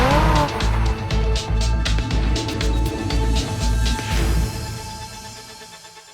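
Toyota Celica engine without a turbo, running loud and close with a steady low rumble that rises and falls through revs, trailing off toward the end.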